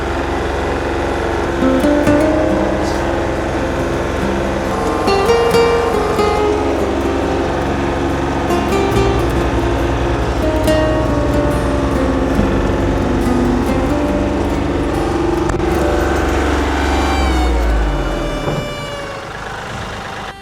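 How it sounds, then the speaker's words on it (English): A heavy diesel tractor engine runs steadily for the whole stretch, a loud low rumble with shifting revs and clanking, close by and unbroken. "It's my first time up here with the tractor."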